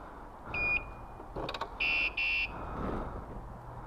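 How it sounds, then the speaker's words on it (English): A motorcycle alarm sounds in short electronic bursts: a thin tone, then two louder, sustained beeping blasts about half a second each, set against quiet outdoor background noise with no talking. "That's just one alarm."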